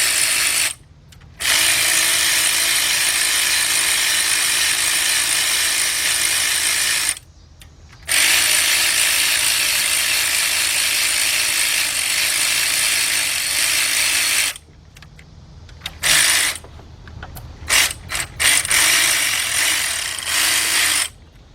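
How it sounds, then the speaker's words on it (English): A cordless ratchet on a 4-inch extension loosens the oil pan bolts of a 2005 Cadillac CTS with a 3.6 engine. Long, loud, steady whirring bursts are broken by brief pauses, then shorter stop-start runs near the end. "on my cordless ratchet. And loosen up that one."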